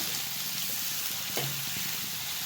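Byadgi chillies fry in a pan for a masala, a short steady sizzling hiss with a faint clink midway, close and without voices.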